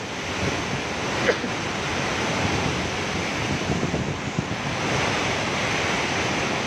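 Roaring wind and crashing surf during Super Typhoon Rolly, a dense continuous rush battering the microphone with no pauses.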